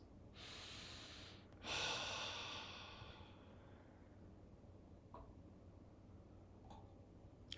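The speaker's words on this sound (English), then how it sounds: "Breathing through the nose." Slow breathing through the nose during a quiet kundalini meditation, with a long soft inhale and a fuller exhale, close and faint over a low ambient hum and a few light ticks.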